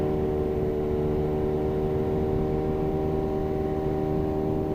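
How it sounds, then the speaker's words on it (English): BMW HP4 superbike engine with auto-blip, a steady loud mechanical drone with strong low harmonics, running evenly and continuously without clear revs rising or falling. "And the auto blip just sounds good too. Listen to this."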